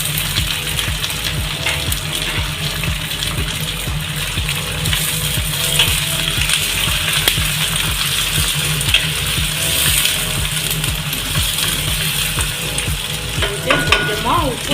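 Onion, chili and tomato fry loudly with sardines and cooked potato in a hot pan. A dense, continuous sizzle runs throughout, with regular scraping stir strokes and a few clinks near the end.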